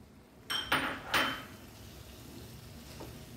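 Frozen green peas tipped into a hot cooking pan for matar paneer, with a few quick metallic scrapes and clinks of stirring up front, then a soft, quiet sizzle.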